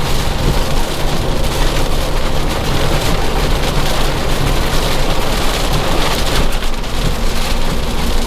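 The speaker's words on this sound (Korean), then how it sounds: "그 비가 많이 옵니다" Heavy rain pours down steadily, a dense, loud, unbroken hiss of drops drumming on surfaces, likely heard from inside a car, with no voices over it.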